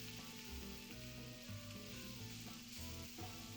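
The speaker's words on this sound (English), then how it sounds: "Then take the lid off and let fry for another 5 minutes or so get welted." Vegetables frying in butter and stock in a pan, a soft continuous sizzle heard close but at low level, with faint background hum.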